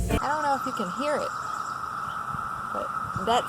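Cicadas drone as a steady, continuous high buzz through the whole stretch, far off and siren-like in the background, while someone talks over it at the start and again at the end.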